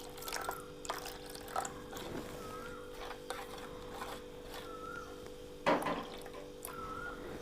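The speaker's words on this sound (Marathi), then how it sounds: "ते पाणी आपण ह्याच्यात टाकून घेऊया" Drinking water is poured in small splashes and drips into a homemade mixture in a kitchen, several separate close trickles and plops with quiet pauses between them and one louder splash.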